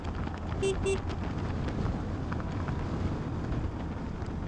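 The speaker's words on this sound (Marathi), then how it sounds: "वारा खूप भयंकर आहे." Strong wind roars over a motorcycle on the coastal Konkan road during a monsoon ride, a constant heavy buffeting rumble with steady engine and road noise underneath.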